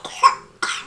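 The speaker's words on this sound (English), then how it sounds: "You know, that cough." Two quick, breathy coughs close to the microphone, separated by a short pause.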